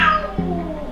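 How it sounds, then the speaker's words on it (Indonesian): An indoor cat gives a loud, close, drawn-out meow with a clear, steady tone, heard alone. "kucing."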